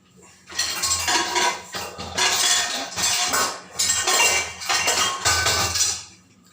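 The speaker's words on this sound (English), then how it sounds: "I'm going to take a cooker, and I'm going to make an effort to cook the rice in the cooker" Metal clatter of a rice cooker pot being picked up and handled in a home kitchen, a series of close clanks and knocks in uneven bursts with no talking.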